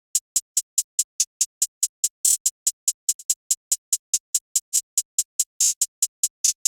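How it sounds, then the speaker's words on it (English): Crisp, steady hi-hat ticks from a UK rap beat in a fast even pulse, with a couple of longer open hits breaking the pattern, sounding alone and close. "So first I started with the hi-hats, very simple."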